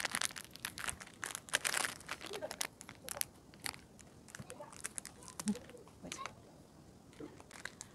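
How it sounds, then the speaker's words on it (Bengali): Someone cuts open a plastic packet of Amul milk while making payesh in a home kitchen, producing irregular close crinkles, crunches and sharp snipping clicks. "এবার এই দুধটার মধ্যে আমুল দুধটা কেটে ভালো করে মিশিয়ে নেব"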